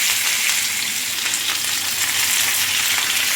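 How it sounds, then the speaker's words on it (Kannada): Fish frying in a pan, in a banana leaf fish fry, giving a loud, close, unbroken sizzle that holds steady throughout with no voices. "ಇನ್ನೊಂದು ಸೈಡ್ ಕೂಡ ಇದನ್ನು ಫ್ರೈ ಮಾಡ್ಕೊಳ್ತಿದ್ದೀನಿ"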